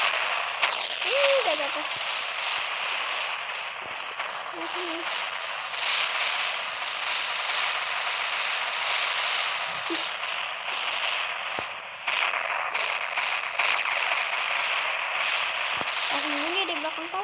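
Sharp gunshots from the Sakura School Simulator mobile game crack out as scattered, brief bursts over steady game background noise, while people talk throughout.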